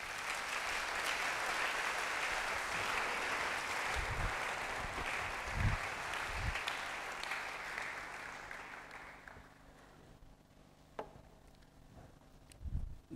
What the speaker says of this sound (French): Acclame pour la parole de Dieu.